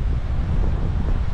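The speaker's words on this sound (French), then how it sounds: "Putain, le vent, je sais pas si vous l'entendez là maintenant qu'on a arrêté." Strong wind buffeting a microphone beside a long straight road next to a field, a constant low rumbling roar without breaks.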